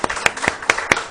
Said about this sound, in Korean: 우리 감사의 박수를 보냅시다